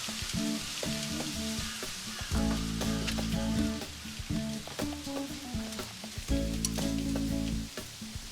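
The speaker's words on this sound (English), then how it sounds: "char some tortillas on the grill" Tortillas sizzling and charring on a grill, a steady close crackle with faint clinks and handling noises throughout.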